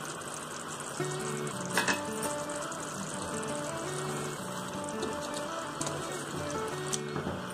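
Yogurt goes into a sizzling chicken karahi, a steady close frying hiss with a brief splashy burst and faint stirring scrapes throughout, no talking.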